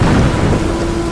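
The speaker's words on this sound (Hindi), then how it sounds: "बारिश का शोर इतना था कि शायद मेरी आवाज़ दब गई।" Heavy rain pours down loud and close in a dense, steady roar, with a deep rumble of thunder running underneath.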